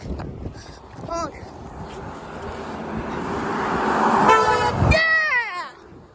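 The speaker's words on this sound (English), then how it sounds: "Get them honking." Car horns toot along a road by a park, a few short honks at first, then a louder stacked blast near the end as traffic passes, with excited voices around.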